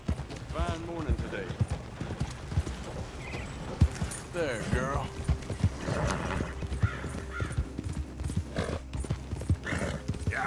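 Hooves clip-clop steadily as a horse travels in the video game Red Dead Redemption 2, with occasional whinnies and background game sounds, all under continuous talking.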